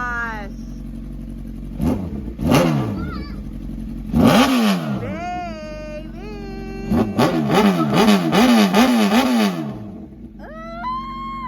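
A crashed Honda CBR1000RR with a suspected coolant problem idles and revs close by, with repeated sharp throttle blips rising and falling in pitch. People talk over the engine.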